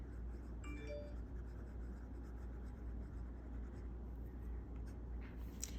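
Stylus writing on a tablet screen in a digital planner, heard as soft, steady scratching strokes close by over a low background hum, with a few faint clicks near the start.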